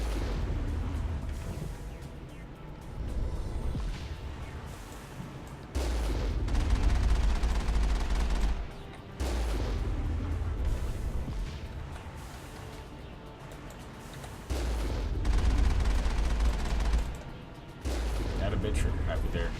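Gunfire in the video game Mass Effect, bursts of rapid shots and booming impacts that come and go in heavy stretches, loud and close, with game sounds and a voice talking between volleys.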